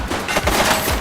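Rapid gunfire bursts from The Precinct, a police action game, crackling loud and dense through the whole second with no pauses between shots.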